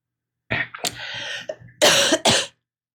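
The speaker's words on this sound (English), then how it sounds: "I apologize for coughing" Several sharp coughs from one person close by, a short burst followed by two loud, harsh coughs with brief pauses between them, in an otherwise quiet room.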